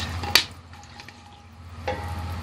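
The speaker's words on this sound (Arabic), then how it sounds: "تشويحه كده بسيطه." Spices for Bedouin-style lamb mandi sautéing in heating oil, a faint low sizzle with a couple of sharp stirring clinks against the pan.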